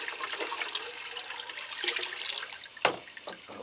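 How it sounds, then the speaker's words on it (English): Water poured over potted Phalaenopsis orchids and their leaves, a steady close splashing and trickling stream with a brief louder splash near the end. "I'll give them a good watering. Water all the leaves as well"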